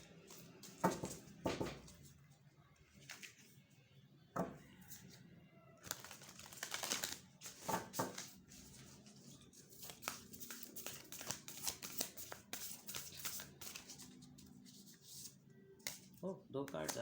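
Tarot cards being shuffled by hand during a reading, soft papery riffles and flicks in uneven bursts, faint and close, with someone speaking between them.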